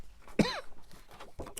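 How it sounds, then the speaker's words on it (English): A single sharp, close cough bursts out near the start, followed by a quieter rasp and a short throat noise near the end, in an otherwise quiet indoor setting. "I'm really sorry for coughing."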